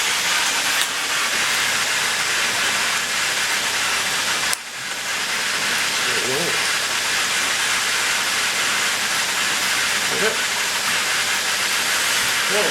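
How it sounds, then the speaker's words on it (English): A pressure washer hisses in a loud, continuous spray while cleaning an Evolution Aqua Nexus 310 aquarium filter, with a brief break midway before the steady rush resumes, close and unbroken. "Right, now, give us a little pressure washer."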